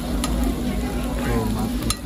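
An egg fries in a pan with no oil at a busy eatery, giving a steady close sizzle with scraping stirs and a few sharp clicks of utensil on metal across two seconds.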